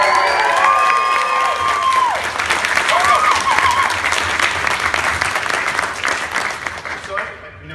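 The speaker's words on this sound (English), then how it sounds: "I always ask for a bigger cheer, but that was pretty good" Audience at the Archie Comics panel at San Diego Comic-Con 2015 bursts into loud, sustained applause and cheering from a large crowd, with scattered whoops and voices throughout, fading near the end.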